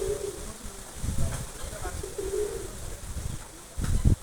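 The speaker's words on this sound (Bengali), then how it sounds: "ওখানে অনেক কবুতর, অনেক কবুতর, অনেক কবুতর, অনেক কবুতর" Pigeons cooing in a zoo aviary, soft repeated coos close by with occasional wing flutters and scattered bird chirps in the background.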